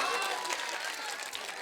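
Audience at a comic poetry mushaira in Barhara Ganj, Kushinagar, breaking into dense, continuous clapping that fills the whole moment, loud and crowd-wide with a bit of voice mixed in.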